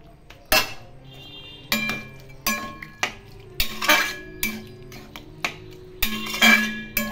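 Poppy seed paste going into a pan of boiled potato and ridge gourd for a Bengali posto dish, heard as a series of sharp metallic clanks and scrapes of a spoon against the pan, spaced irregularly with quiet gaps between, no talking.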